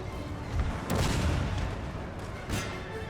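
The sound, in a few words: cannon artillery fire in Total War Napoleon video game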